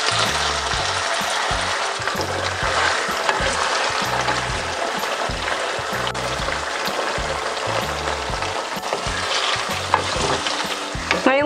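Potatoes fry in hot oil with a dense, steady sizzle and crackle, close and fairly loud, with occasional stirring and no voices.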